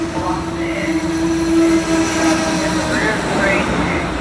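A northbound train rolls loudly through Fullerton station, a continuous close rumble with a steady tonal whine and faint wheel squeals, no talking heard.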